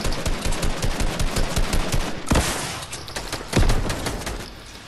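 Automatic gunfire in Fortnite rattles in fast, steady bursts, loud and near, with a couple of sharper heavy blasts standing out over the continuous shooting.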